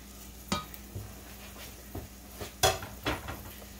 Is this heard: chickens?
no